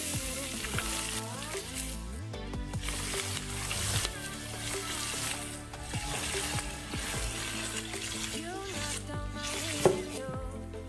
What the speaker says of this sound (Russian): Лук в казан. Немножечко его обжариваем и добавляем мясо.